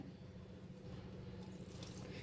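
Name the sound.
pouring water into dough while kneading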